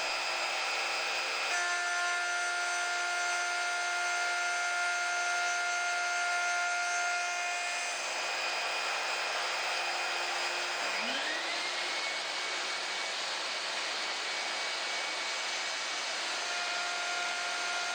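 A woodworking router milling a cast iron mitre slot with slow feeding: a loud, continuous high-pitched motor whine with steady tones, dropping and changing pitch partway as the cutter bites into the metal.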